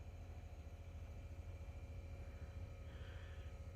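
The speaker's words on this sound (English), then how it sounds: "I can hear the compressor running." The air suspension compressor on a 2007 Audi A8 with a suspension fault runs as a faint, steady mechanical hum with a constant whine, unbroken for several seconds.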